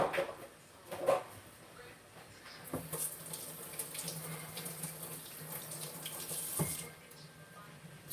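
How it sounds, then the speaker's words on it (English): Kitchen tap water runs over an onion being rinsed in a sink, a soft continuous splashing stream with a few clatters and bumps of handling, fairly quiet and close, with faint background voices. "I'll rinse that onion off there real quick."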